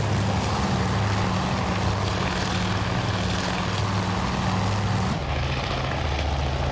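Propeller aircraft engines roaring for takeoff in the naval strategy game Task Force Admiral, a loud, dense droning hum held steadily, with the engine tone shifting and dropping slightly near the end, no voices.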